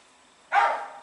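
A single short dog bark rings out after a quiet moment, fairly close and alone.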